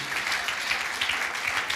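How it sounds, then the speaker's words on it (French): A church congregation applauds its welcome team, a steady, even roar of many hands clapping at moderate distance with no break. "on devrait applaudir l'équipe de l'accueil"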